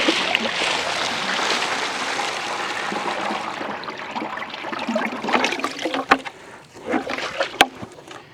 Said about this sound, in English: I filled it up last night, guys, and forgot about it, so it overfilled